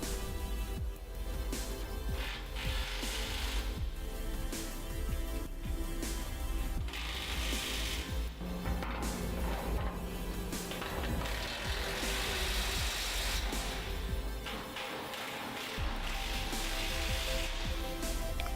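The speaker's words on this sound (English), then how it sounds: "Start tightening at the bottom nearest the hopper and move towards the top." Bolts being tightened on a steel hopper structure, with a continuous run of ratcheting clicks over a steady mechanical background that carries on for the whole stretch without speech.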